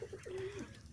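Pigeons coo on a rooftop loft, one bird giving a short rolling coo close by, over faint background noise.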